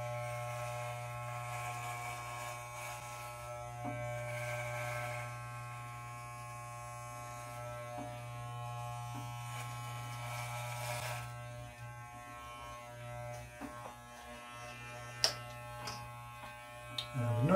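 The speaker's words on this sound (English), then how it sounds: "I'm now going to switch to the over-the-ear taper" A Wahl electric hair clipper cuts hair around the ear during a self haircut, giving a steady close buzzing hum with faint scraping and small clicks as the blades move.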